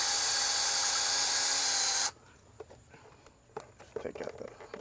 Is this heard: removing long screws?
yes